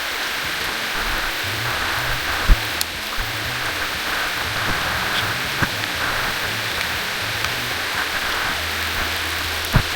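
Light rain drizzles steadily on a steep, muddy hiking trail at Nam Xay Viewpoint in Laos, a constant soft hiss with a few sharp drip clicks, low rumbling in the background, no voices.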